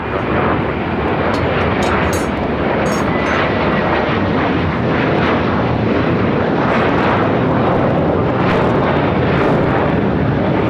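An airliner takes off from runway 25 right at LAX, its engines a sustained heavy roar that holds steady for the whole stretch, broad and loud with faint crackles above.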